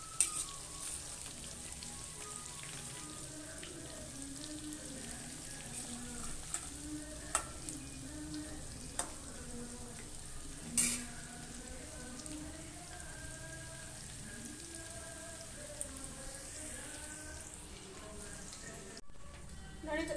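Onion bondas fry in oil over a medium flame, giving a soft, steady sizzle and crackle with occasional small pops, while a voice talks over the frying throughout.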